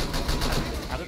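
Gunfire in a game match, dense and continuous, with shouted voices overlapping the shots throughout the short burst.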